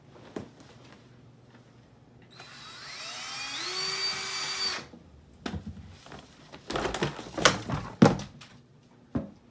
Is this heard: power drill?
yes